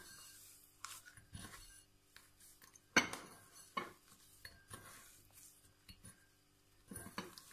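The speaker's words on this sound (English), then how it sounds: "So now you mix it." Eggless cookie dough is mixed in a bowl, giving faint, scattered clinks and scrapes of a utensil against the dish, with quiet gaps between the taps and one sharper knock.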